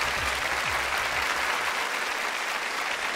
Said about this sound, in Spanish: Un aplauso, sabe, sabe.